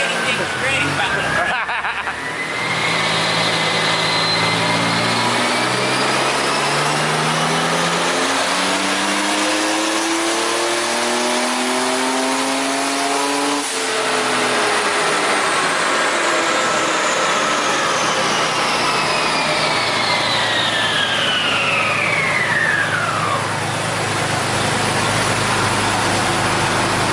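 An air-cooled big-turbo Porsche 930 engine on a dyno revs up through rising pitch, holds loud and roaring near the top, then drops and climbs again with turbo whine sweeping overhead.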